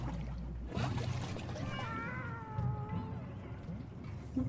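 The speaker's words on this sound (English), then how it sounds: "Poor cats, man. They sound so sad." Cats meowing sadly in a video game, long wavering plaintive meows rising and falling in pitch over background noise, with a low rumble at the start.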